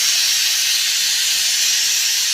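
A pressure cooker on a home kitchen stove, cooking sambar, releases steam in one loud, steady, continuous hiss that carries unbroken from start to finish with no talk.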